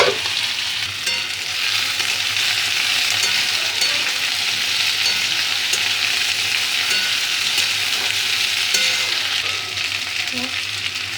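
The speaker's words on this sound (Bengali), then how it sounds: "ভেজে রাখা আলু আর ভেজে রাখা ভেন্ডিগুলো দিয়ে দেবো" Previously fried potatoes and okra sizzle steadily in a hot pan while being stirred, a loud continuous crackling fry with soft scraping, no voices.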